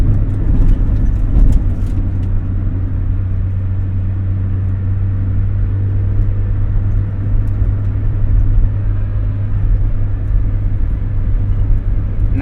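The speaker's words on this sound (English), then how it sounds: "we're going over some light bumps now" Cabin noise inside a Mazda Miata on a rough road: a loud, constant low rumble of tyres and engine, with a few sharp knocks and rattles from bumps early on and scattered small thumps later. No one talks.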